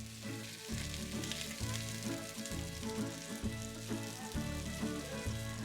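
Cajun-seasoned shrimp and lemon sizzle steadily in a hot pan, a close continuous frying crackle with soft rhythmic stirring scrapes underneath and no voices.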